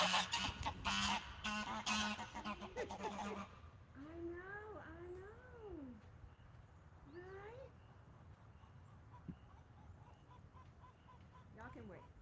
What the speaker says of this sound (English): These are geese.